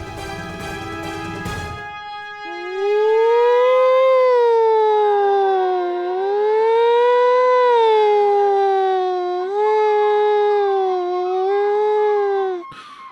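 A voice imitates an ambulance siren in a long, wailing rising-and-falling tone that holds loud and steady for about ten seconds after a short burst of noise at the start.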